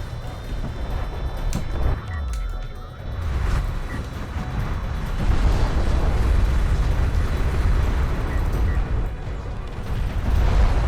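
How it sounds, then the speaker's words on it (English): Artillery barrage fired from a Kharak carrier in the desert strategy game Homeworld: Deserts of Kharak: a dense, continuous rumble of low booming blasts that swells louder midway and holds steady, with no talk over it. "now we see that artillery barrage coming up from the Kharak carrier here"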